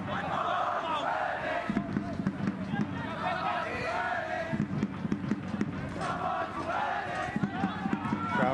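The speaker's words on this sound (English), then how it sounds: "Crowd trying to lift the home team." A home crowd at a Canadian Championship soccer match between Ottawa Fury FC and FC Edmonton cheers and shouts in a broad, continuous roar. Rhythmic surges rise and fall beneath play-by-play commentary.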